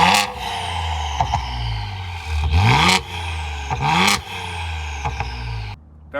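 Ford Explorer ST police vehicle with carbon fiber exhaust tips and Valvetronic mufflers open, revved several times nearby with a loud, raspy roar, crackling pops on the overrun, and a sudden cutoff near the end.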